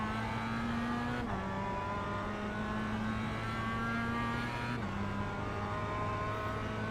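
A production race car at Summit Point Raceway in the iRacing sim pulls hard under throttle, its engine note climbing steadily with two quick dips at gear shifts, loud and continuous with no talking.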